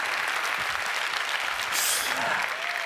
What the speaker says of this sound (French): Applaudissez-le très fort, s'il vous plaît.